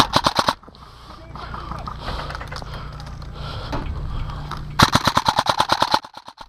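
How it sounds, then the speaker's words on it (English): Umbrella OCAW Alpha CQB-R airsoft gun firing rapid bursts during a desert airsoft battle: fast, evenly spaced shots open the scene, then return in a longer burst near the end, with muffled field noise between. "this gun is perfect to take out the enemies, and also with that rate of fire, keep those heads down."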